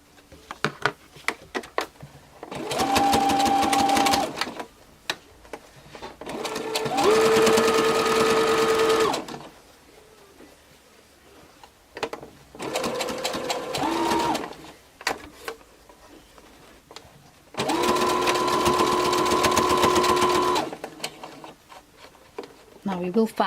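A sewing machine stitches strips of fabric for a raggy flower brooch in four separate bursts of steady whirring, each a few seconds long, with brief quiet pauses and faint handling noises between runs.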